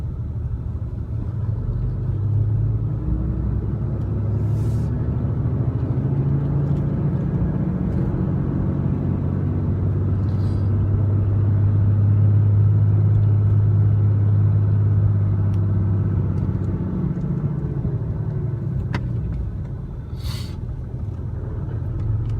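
Cummins truck fitted with a G56 manual gearbox and a twin-disk clutch pulling away in first gear, a steady low engine rumble that swells and eases slightly, heard from inside the cab, with no voices.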